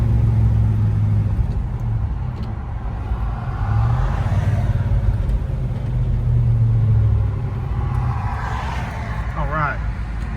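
A 1967 Chevrolet Chevelle SS 396 rumbles along with a deep, steady engine drone and swells of acceleration, heard from inside the car with road noise and some speech over it.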